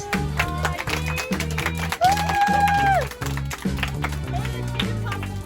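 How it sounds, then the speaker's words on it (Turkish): Clapping from a small crowd at a child's birthday party in a home, steady rapid claps running throughout, with a brief singing or whooping voice rising above them midway. "Alkış."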